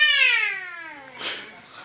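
A young child imitates a cat's meow: one long, loud, close vocal mew that slides steadily downward in pitch, followed by a softer breathy sound.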